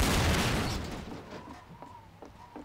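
Gunfire hits barrels in the Trouble in Terrorist Town game: a loud burst up front that fades into a reverberant tail, followed by a few fainter sharp shots.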